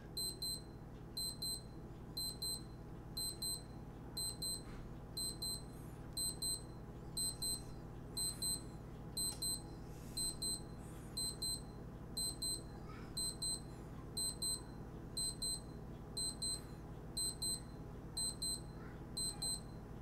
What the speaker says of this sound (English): it's going to blink when the normal alarm goes off